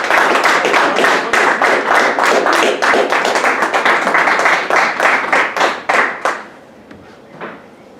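A congregation at a Spanish-language church service claps in unison, brisk rhythmic hand claps that continue evenly for about six seconds, then trail off into quiet with a few scattered claps.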